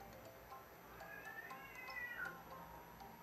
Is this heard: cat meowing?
yes